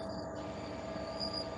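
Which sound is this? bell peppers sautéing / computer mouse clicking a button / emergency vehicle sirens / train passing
train passing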